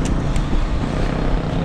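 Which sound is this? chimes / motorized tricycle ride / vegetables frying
motorized tricycle ride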